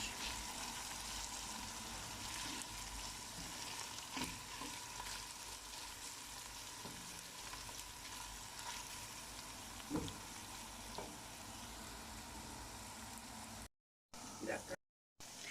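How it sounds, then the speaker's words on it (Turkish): Tomato paste frying with ground meat in a pan while being stirred for a cauliflower dish: a steady, faint sizzle with occasional scraping clicks of the spoon, continuous throughout with a couple of brief drop-outs near the end. "Evet gördüğünüz gibi salçamız içinde iyice kavruldu."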